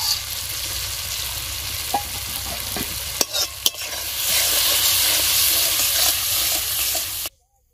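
Chhana with chopped cashews and raisins frying and being stirred as a filling for potol dorma, a constant close hiss and scrape that swells louder midway, marked by a few sharp spatula knocks, before stopping abruptly.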